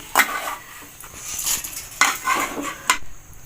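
Fried urad dal and dried red chillies scraped from a pan into a bowl for ginger chutney: several sharp metallic clinks and scrapes of a spoon against cookware, close and clear, in irregular bursts with no talking.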